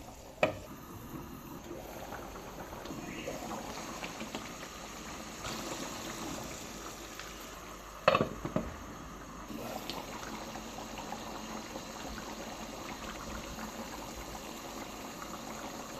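Meat and bitter gourd curry simmers in a pot after water is added, giving a steady soft bubbling hiss with one brief clatter partway through.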